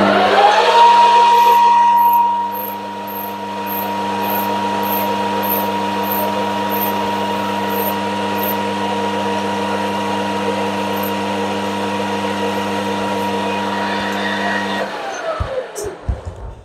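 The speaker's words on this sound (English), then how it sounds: "I'm going to put a good chamfer on the end of here just to make life a little bit easier on the die when it starts" A metal lathe spins steadily while a handled file chamfers the end of a rod, a continuous close machine hum with a rasping scrape on top, ending with a few clanks as the machine winds down.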